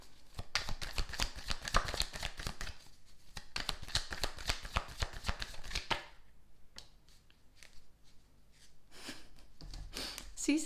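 Tarot cards being shuffled by hand, rapid riffling bursts in quick succession, close and crisp, followed by softer card handling and a few breaths.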